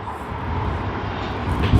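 Cathay Pacific flight CX-139 from Hong Kong, an aircraft registered B-LRV and built in 2017, roars at Sydney Airport as a broad, steady engine rumble that swells slightly toward the end.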